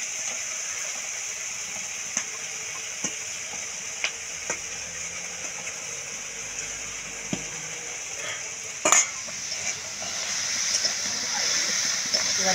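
Vegetables fry in spiced masala in a pan, giving a faint, steady sizzle broken by scattered clicks and scrapes as they are stirred. A few louder clatters come toward the end, and the frying builds slightly near the close.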